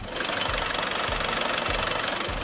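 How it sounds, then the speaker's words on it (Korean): SsangYong G4 Rexton diesel engine idling with the hood open, a steady close rumble with a fast even knock-like clatter and regular low pulsing throughout, no talk. "디젤 엔진이라 어느 정도 소음은 있지만 차량 관리 잘 된 만큼 엔진 잡음, 벨트 잡음 하나 나는 거 없는"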